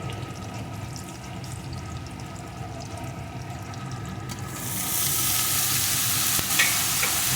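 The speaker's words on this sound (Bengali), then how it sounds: "বেগুনটাও একটু সব কিছুর সাথে এইভাবে নেড়ে নেব" Chunks of eggplant and potato are stirred and fried together in a pan, giving a steady, close sizzle with soft scraping that grows louder and brighter partway through.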